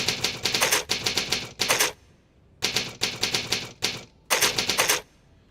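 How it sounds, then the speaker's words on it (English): Rapid bursts of keyboard typing during a Star Citizen livestream, loud and close with short pauses between clusters of keystrokes, with no talking over it. "Apologies for the typing."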